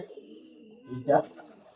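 Pigeons coo softly nearby: low, throaty murmurs with a fuller coo swelling near the end.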